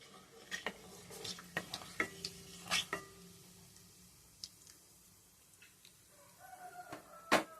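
A spoon stirs tempering spices in a pan for a village-style gongura dry mutton curry, giving faint, irregular metallic clinks and scrapes with a soft sizzle beneath and one sharper knock near the end.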